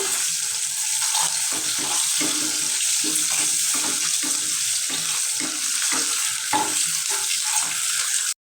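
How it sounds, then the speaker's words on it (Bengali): A country chicken egg fries in hot oil in a pan, giving a steady, close, loud sizzle with crackling pops throughout and no talking. "ডিমটা ভাজে নিব"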